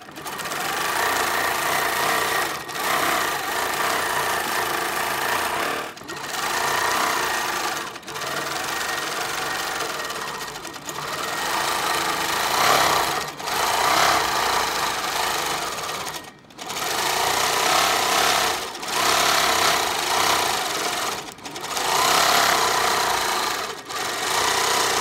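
A sewing machine stitches a wiggle ditch around quilt edges in free-motion quilting, its fast steady needle chatter running in long loud bursts with brief pauses between them, close and alone.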